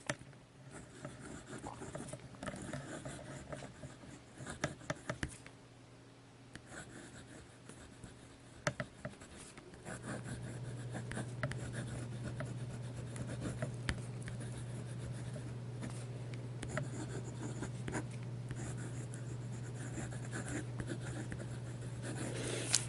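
A Montegrappa American Dream fountain pen nib scratches softly across paper in quiet, irregular strokes, close up, over a faint steady background hum.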